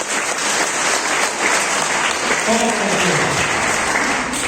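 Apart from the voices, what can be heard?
congregation applauding in church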